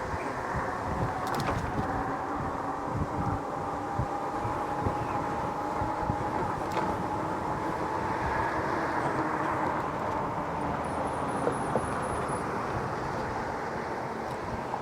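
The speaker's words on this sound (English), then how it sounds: "it's kind of windy today" Wind roars steadily across the microphone during an e-bike ride on a windy day, a constant, low, buffeting rumble with occasional gusty thumps, and no talking.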